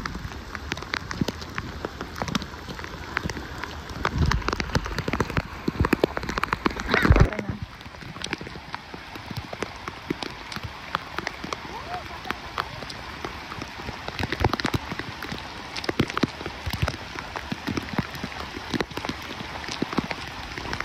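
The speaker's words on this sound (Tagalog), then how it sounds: "Umuulan yan, lakas ng ulan yan." Heavy rain pelts down at Poi O Beach, a dense crackling patter with scattered louder drops and splashes, continuous and close, with faint voices now and then.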